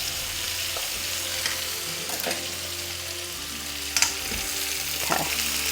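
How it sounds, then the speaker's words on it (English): Okra (bhindi) frying in oil in a pan, a steady close sizzle with occasional stirring scrapes and small crackles, no talking. "now I'm going to add the bhindi in. And I want this to fry."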